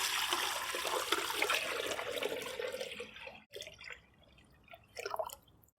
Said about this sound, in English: I'll add water.